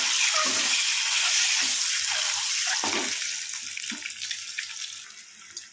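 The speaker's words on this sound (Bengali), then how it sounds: "তেলটা গরম হয়ে আসলে আমি একে একে সিদ্ধ ডিমগুলো ভেজে নেব।" Boiled eggs frying one by one in hot oil in a home kitchen, giving a steady bright sizzling hiss that fades slightly toward the end, with no talking.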